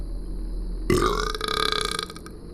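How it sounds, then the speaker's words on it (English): A long, loud, close burp that starts abruptly and rumbles on for over a second with a guttural, rattling texture, alone against a quiet background hum. "Finishing his meal, he let out a burp."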